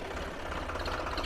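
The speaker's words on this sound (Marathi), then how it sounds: "तर आलाय फायनल ट्रॅक्टर मेसी फर्ग्युसन." A Massey Ferguson tractor engine runs steadily in a field being ploughed, a low, even knocking rumble with a regular pulse, fairly close and heard without voices.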